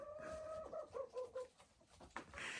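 Backyard hens cluck in a short series of rising, chirpy calls at close range, followed by a brief squawk in extreme winter cold. No one speaks over them.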